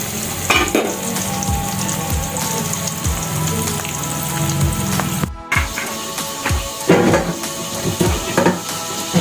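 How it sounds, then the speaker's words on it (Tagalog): Chicken frying in hot oil gives a steady, dense sizzle with crackling pops, plus occasional sharp clatters of stirring or utensils, close and fairly loud throughout. "Habang ako'y nagpiprito ng manok."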